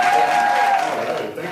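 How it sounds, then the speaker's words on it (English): Audience applause at a talk, a dense steady patter of clapping with crowd noise that holds loud for most of the moment before tapering slightly toward the end. "thank you for your applause"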